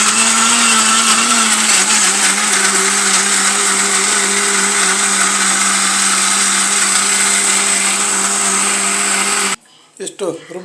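A kitchen mixer grinder whirs loudly and steadily, close by, as it grinds masala with tomato and coriander for about nine seconds, then cuts off. A voice follows briefly after.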